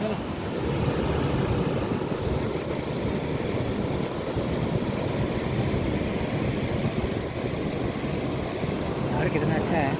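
A small waterfall rushes with a continuous, even wash of falling water, steady and fairly close, with no breaks.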